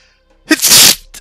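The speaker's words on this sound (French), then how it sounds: "Toujours un éternuement à chaque fois." A single loud, close sneeze: a sharp breathy intake followed by a burst of noisy exhalation lasting about half a second, then a brief after-sound.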